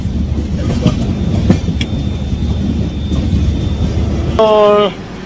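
Passenger train rolling on rails near Dindigul on the Chennai to Kodaikanal route, a steady close rumble of wheels and carriage noise throughout, with a rising horn-like tonal burst near the end.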